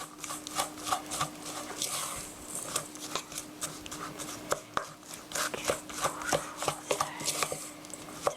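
Hamburger steak mixture worked together in a bowl, producing rapid, close, wet slapping and squishing taps in an uneven rhythm, steady and fairly quiet with no voices.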